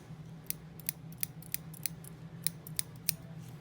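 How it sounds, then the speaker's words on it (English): Dull scissors snip through yarn at the end of a crocheted Pokéball keychain, about a dozen quick, sharp, dry clicks in a steady rhythm over a low steady hum, close and fairly quiet. "My scissors are so dull, I need to sharpen them."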